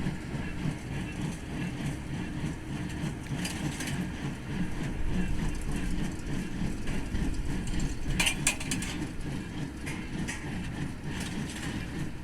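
A Massey Ferguson 1840 inline hay baler runs in a hayfield, a rhythmic mechanical clatter of gears and ratcheting plunger over a low engine rumble, close and continuous with a few sharper clanks.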